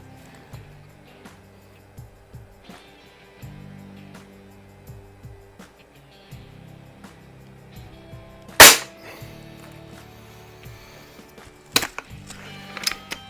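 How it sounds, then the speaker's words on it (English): A Ruger Airhawk .177 break-barrel spring air rifle fires indoors with one sharp, loud report standing out from quiet handling noises, followed by a few smaller clacks and knocks. "I'm almost tempted to wear hearing protection when I'm shooting this one, especially when I'm inside like this. It's pretty loud."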